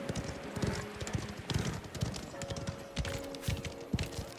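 A horse gallops in Mafia: The Old Country, quick rhythmic hoofbeats clip-clopping close by over a faint steady tone, with the pace holding even throughout.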